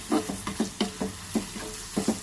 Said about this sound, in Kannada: ಇದು ಎಣ್ಣೆದು ಕಲರ್ ಚೇಂಜ್ ಆಗೋವರೆಗೂ ಚೆನ್ನಾಗಿ ಫ್ರೈ ಮಾಡ್ತಾನೆ ಇರಬೇಕು ಕೊಬ್ಬರಿ ಎಣ್ಣೆ ಜೊತೆಗೆ